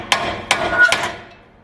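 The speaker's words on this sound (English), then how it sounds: "you can give it a few bashes with the hammer on the sides" Three sharp metallic hammer blows on a front suspension bushing of a Toyota 90 Series Prado ring out in quick succession, close and loud, then the ringing fades away.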